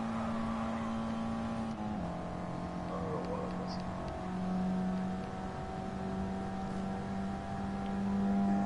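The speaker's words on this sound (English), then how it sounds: "Love the sound of this SR20 going through these tunnels." An SR20-powered car races through Tokyo Expressway tunnels in Gran Turismo, its engine a steady droning hum that shifts pitch with gear changes and throttle, echoing continuously throughout.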